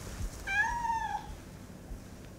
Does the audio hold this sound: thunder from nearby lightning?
no